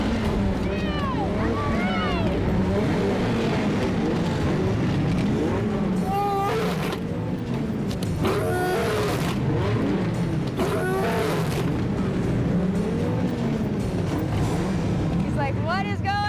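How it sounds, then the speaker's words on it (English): A group of Dodge Viper cars with big engines pulls away together, loud rumbling exhaust rising and falling in overlapping revs and passes, continuous and close, with people talking over the engine noise. "the Vipers all get going, and they just get so loud with their big engines"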